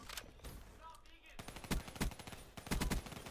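Rapid bursts of VMP submachine gun fire in Black Ops 3 multiplayer, a few short clustered volleys in the second half over game noise, with a voice faintly present.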